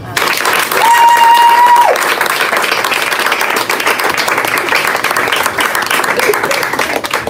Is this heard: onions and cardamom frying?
no